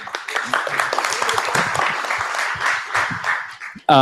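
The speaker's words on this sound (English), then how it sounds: "Everybody likes clapping" Audience applause at a blockchain standards workshop, a dense wash of many hands clapping steadily for about four seconds, then cut off by a sudden louder noise at the end.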